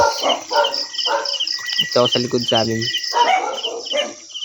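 At night, dogs let out a short burst of barks against a steady chorus of crickets, while a person speaks nearby.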